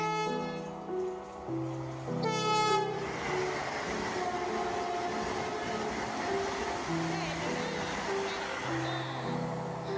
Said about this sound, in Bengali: আর এসে দেখছি বন্দে ভারত পাস করছে